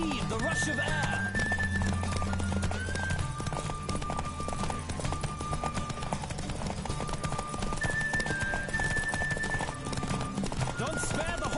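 Horse racing at full gallop in The Witcher 3, close and steady hoof clatter driving through the whole stretch under a game soundtrack, with occasional snorts and brief bursts of voice mixed in.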